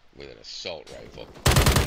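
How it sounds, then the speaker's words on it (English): Assault rifle fire erupts in a video game deathmatch, a sudden loud, rapid burst of shots that follows a short spoken voice line. "Assault rifle."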